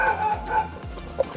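A neighbor's dog next door lets out several sharp, yipping barks in quick succession, close and fairly loud, reacting to a Tesla's external megaphone.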